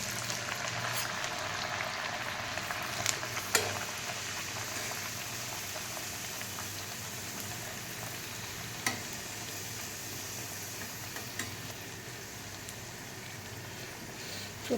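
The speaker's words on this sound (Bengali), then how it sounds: "তেল আমার গরম হয়ে এসেছে, এই যে লুচিগুলো এক এক করে ছাড়বো আমি।" Pea-stuffed luchi dough frying in hot oil in a home kitchen: a steady, soft hiss of bubbling oil with occasional faint pops and clicks, continuous and fairly quiet for about fifteen seconds, with no talking.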